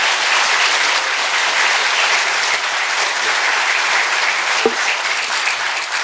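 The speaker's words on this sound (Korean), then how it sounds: "다시 한번 문재인 전 대표님께 큰 박수 부탁드리겠습니다." Big, loud applause from a forum audience at a commemorative ceremony, steady dense clapping throughout with a brief sharp knock partway.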